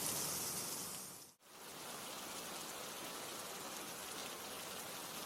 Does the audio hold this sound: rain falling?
yes